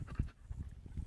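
A dog pants close by in quick, rough breaths, loud and steady with a few sharper gasps, heard near a pickup truck with no talking over it.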